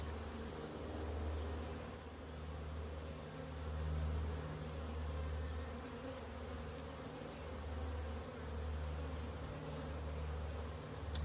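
Honey bees on a hive frame in a growing backyard apiary drone in a continuous low buzz that rises and falls gently, close and steady, with no voices.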